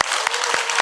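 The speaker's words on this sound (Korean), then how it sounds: "박수로 환영하겠습니다." Church congregation clapping to welcome Cambodian and Vietnamese students, a brief burst of dense applause from many hands, fairly loud and close.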